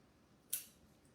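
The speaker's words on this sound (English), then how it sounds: "And then I'm going to take scissors" A single quick scissor snip through folded paper strips for paper quilling, a crisp short cut close up in a quiet room.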